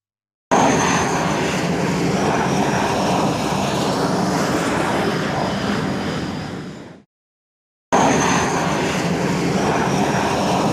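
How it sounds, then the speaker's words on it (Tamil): An airplane engine roars loudly and steadily at an airport. The sound cuts out abruptly partway through, leaves a short silence, then resumes at full strength. "இங்கதான் ஏரோப்ளேன் டேக் ஆஃப் ஆகும், அதே மாதிரி லேண்ட் ஆகும்"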